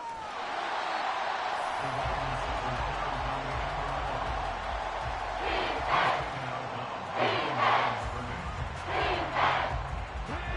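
A packed Arrowhead Stadium football crowd roars during a Chiefs versus Texans game, a dense sustained wall of voices that swells into louder surging whoops and cheers near the end.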